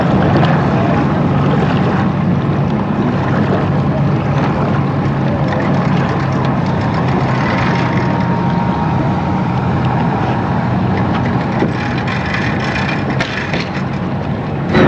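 A motorboat engine drones steadily and loudly throughout, mixed with rushing wind and water noise, with no break.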